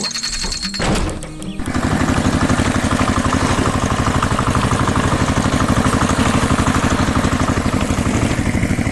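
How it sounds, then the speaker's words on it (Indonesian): A loud, heavy tractor engine plowing soil chugs in a steady rapid rhythm after a brief rattling start, running continuously under load. "Traktor itu sedang bekerja keras membajak tanah agar siap untuk ditanami bibit baru."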